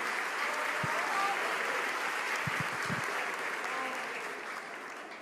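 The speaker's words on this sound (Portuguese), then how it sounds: "vamos aplaudir o Senhor, meus irmãos" Congregation applauding during a Sunday morning service at a Portuguese-speaking evangelical church, a dense steady wash of clapping that fills the room and eases slightly toward the end, with a few low thumps.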